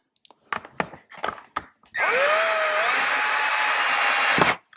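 A power drill drives screws into plastic parts while a radio and thumb controls are installed on a Harley-Davidson Electra Glide. A few light handling clicks come first, then one loud, close, sustained whir that rises slightly in pitch for about two and a half seconds, with no talk.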